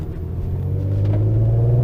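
A 2008 VW R32 with a resonator delete pulls away in a manual takeoff, its deep engine rumble heard from inside the car, steady and rising slightly in loudness over two seconds.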